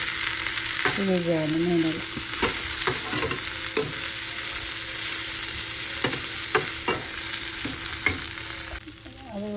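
Mint leaves sizzle steadily in a hot pan while a spoon stirs them, with sharp scrapes and taps against the metal over continuous frying hiss; someone speaks briefly.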